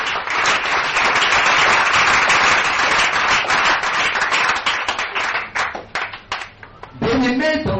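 Church congregation applauding and cheering for the word of God, a dense, loud, sustained roar of clapping that thins out toward the end as a voice begins to speak.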